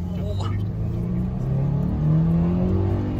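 A car driven hard by an instructor on a race circuit, with a steady engine drone that rises in pitch as it accelerates. Heard from the passenger seat.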